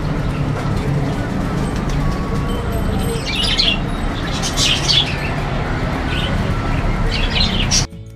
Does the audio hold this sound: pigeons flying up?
yes